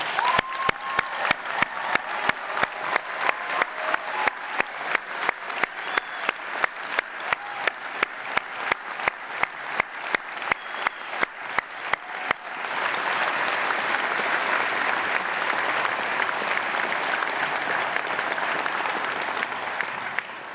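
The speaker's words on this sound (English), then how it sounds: "can I ask everyone in the room to join me in a round of applause for our graduates this morning" At a university graduation ceremony, the audience claps steadily and dense in a large hall. One sharp clap repeats at a regular beat through the first half before the crowd's applause swells into a continuous roar.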